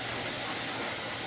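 Steam hissing steadily from a pressure canner during canning of soup stock, a loud continuous airy hiss with no pauses or talking.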